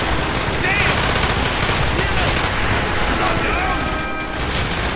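Rapid gunfire from a fast-firing gun in Call of Duty Black Ops, a continuous dense stream of shots blending with explosions and combat noise, with voices underneath.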